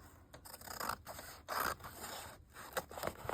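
Scissors trimming a sliver of paper from the edge of an art junk journal, a few quick snipping and scraping cuts close by, with short pauses between strokes.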